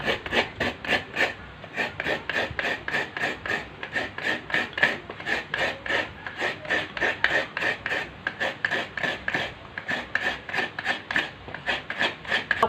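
Coconut flesh being scraped from the shell by hand for an old-style Thai banana-and-coconut dessert: steady, close, rhythmic rasping strokes repeating quickly and evenly throughout, with no talking.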